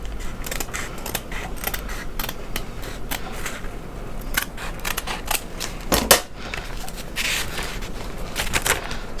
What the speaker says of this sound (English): I'm going to just cut this pleated edge here